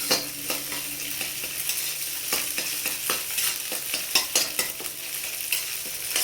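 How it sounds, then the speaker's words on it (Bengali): Onions and egg fry in a pan for chowmein, a continuous bright sizzle broken by frequent sharp scrapes and clicks of stirring, close and steady throughout. "পেঁয়াজ ভেজে সব একসাথে ফ্রাই করবো"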